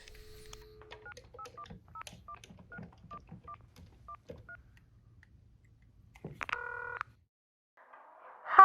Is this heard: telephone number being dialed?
yes